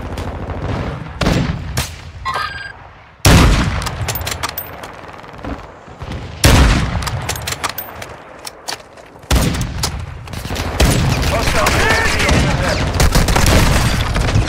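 Gunfire rings out in a Call of Duty Warzone match, with loud bursts of automatic fire and heavy booming shots coming in waves, close and intense, with game sounds filling the gaps between them.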